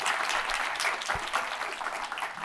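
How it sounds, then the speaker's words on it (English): Applause from an evening audience welcoming filmmaker and author Mason Engel, steady full-room clapping that stays loud throughout the short stretch. "Maybe let's just welcome you again with some applause."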